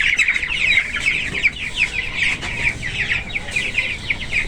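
Fifteen-day-old broiler chicks peep and cluck continuously in a shed, a dense chorus of many small birds close to the microphone with no talking.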